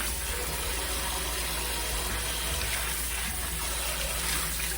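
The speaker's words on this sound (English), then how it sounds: "So the water is cold water, and I shall wash it tonight." Steady cold water running from a tap while washing chicken, a continuous broadband rush with faint shifting splashes throughout.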